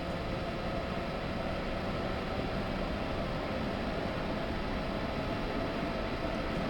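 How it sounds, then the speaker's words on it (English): Locomotive in a train-driving game pulling under power, a constant broadband rumble and hiss of the moving train, steady in level throughout with no voices. "Congratulations, you're now driving the locomotive."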